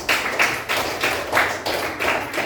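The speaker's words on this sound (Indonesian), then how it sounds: "tepuk tangan untuk kakak" Several people in a classroom clap in loose, uneven bursts, a rough pulse of hand claps rising and falling close by, with no talk over it.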